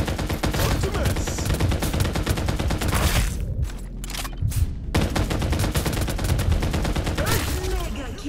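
Rapid, dense gunfire fills a Farlight 84 battle-royale video game match, with loud automatic bursts and overlapping shots that pause briefly midway, then resume. Game voice lines and speech appear over the shooting.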